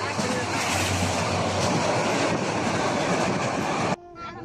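A train rolling into a railway station, a loud continuous rumble of wheels and cars close by that cuts off sharply near the end, leaving quieter background sound.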